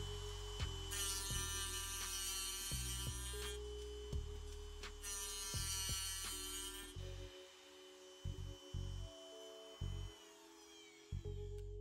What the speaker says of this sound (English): Let's turn the machine on and see how well it cuts this tungsten.